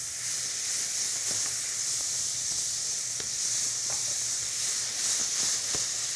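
Vinegar deglazes a hot pan and sizzles steadily, a bright hissing wash close to the listener, dotted with small crackles and pops, with no voices over it.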